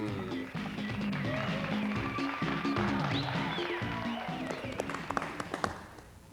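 A studio audience applauds the hostess of the Remote Control game show. Steady clapping mixes with a busy, tonal background and tapers off with a few louder claps near the end.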